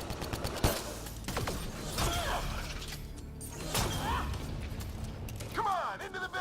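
Enemy gunfire in the sci-fi shooter Mass Effect: Andromeda, repeated bursts of shots, impacts and crackling energy whines through a busy combat mix, with voices talking.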